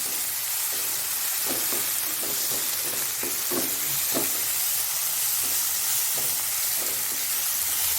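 Ginger garlic paste fries in oil for a mutton brain fry, a constant loud hiss of sizzling with a series of light stirring taps and scrapes midway.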